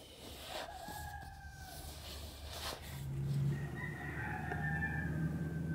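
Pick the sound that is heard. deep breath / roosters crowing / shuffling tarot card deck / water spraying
roosters crowing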